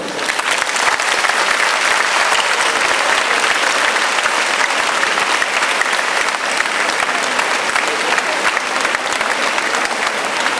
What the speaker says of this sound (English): please welcome home with a round of applause the first batch of Golden Jubilarians